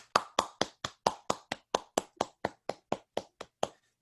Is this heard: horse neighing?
no